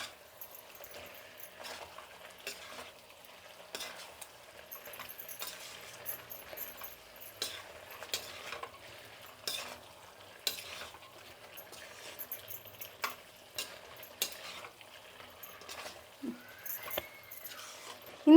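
Black chicken being fried with spices and stirred in a pan gives scattered soft clinks and scrapes of a utensil over a faint, steady sizzle, with irregular taps spread throughout.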